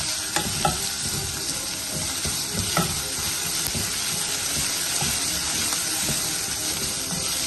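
Beans thoran being stirred in a pan, a steady close sizzle and hiss of frying with scraping stir strokes throughout and no talking.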